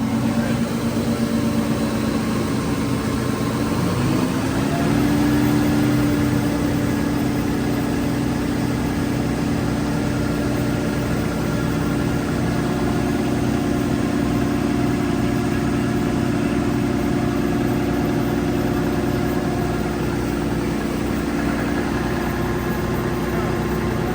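The diesel engine of a Genesis water-recycling sewer jetter truck drones steadily, then climbs to a higher, louder pitch early on and holds there as a constant close mechanical roar.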